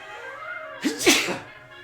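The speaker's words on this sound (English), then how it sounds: "I'm going to sneeze." A single sharp sneeze, close and sudden, preceded by a short intake of breath, in an otherwise quiet room.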